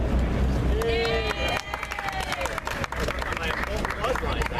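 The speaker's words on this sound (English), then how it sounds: "My applause lines, I guess." Clapping and crowd noise at a council members' endorsement event for a New York City mayoral candidate, a dense patter of hands filling the clip with a voice briefly audible over it.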